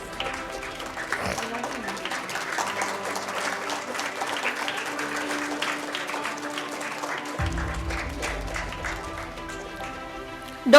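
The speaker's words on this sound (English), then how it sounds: "Let's not stop clapping," An audience applauds at an intercollegiate prize distribution ceremony, with steady, crowded clapping from many hands filling the hall for about ten seconds and a faint low hum joining toward the end.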